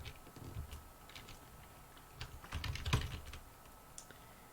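Keys on a computer keyboard clatter in irregular bursts of light taps during a command-line session, quiet and close, with a short denser flurry near the middle and no speech.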